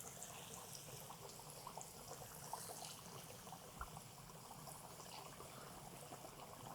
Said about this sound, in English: we're going to start dropping these fillets in there